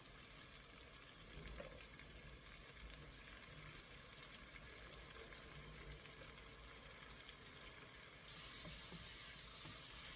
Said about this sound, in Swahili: Utaendelea kukaanga vizuri, hakikisha moto wako sio mkali sana